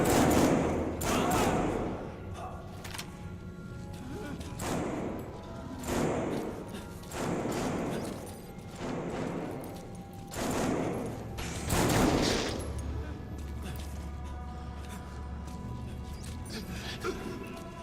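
Repeated bursts of gunfire in Metal Gear Solid V: The Phantom Pain, fairly quiet and spread across the scene in irregular volleys with thuds between them and a low rumble under the shots.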